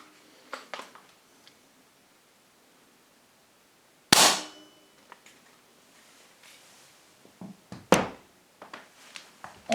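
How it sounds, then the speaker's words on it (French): A spring-powered airsoft sniper rifle fires, two sharp close cracks several seconds apart with short decays, followed by faint handling rustles and light clicks in a quiet setting. "donc là c'est snipe à ressort, un tir, second essai"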